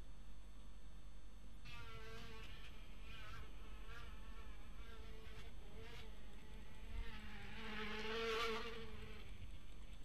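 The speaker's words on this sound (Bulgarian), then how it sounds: "А чува са някакви пчели тука" Buzzing of bees in the video game GTA San Andreas drones over a low steady hum, wavering in pitch and swelling louder toward the end, with no talk.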